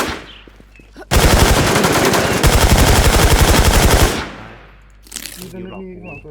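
Bursts of rapid automatic gunfire in the video game Warz Infestation, a loud sustained rattle lasting about three seconds, then a short second burst, with players talking around it.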